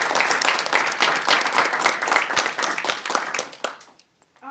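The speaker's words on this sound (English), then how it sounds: "She deserves a huge round of applause." An audience at a Toastmasters club meeting claps in dense, close applause for about four seconds before it quickly dies away to near silence.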